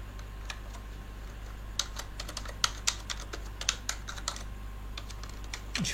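Typing text on a computer keyboard while making a Photoshop poster: scattered, irregular key taps, close and fairly light, over a steady low hum, with no speech.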